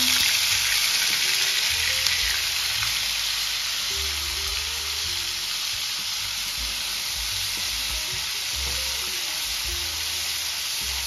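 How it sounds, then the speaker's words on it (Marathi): Onion paste sautés in a pan with whole spices for a paneer masala, giving a dense, even sizzling hiss that stays steady and close throughout, with faint stirring and soft music underneath. "आता आपल्याला कांद्याची पेस्ट छान परतून घ्यायची आहे 1 ते 2 मिनिटं"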